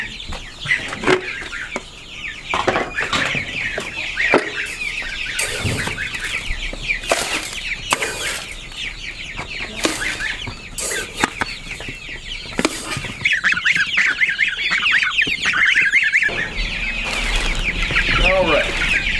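African goose goslings call in a dense, continuous chorus of high, wavering peeps, with frequent wing flaps and scuffling close by throughout.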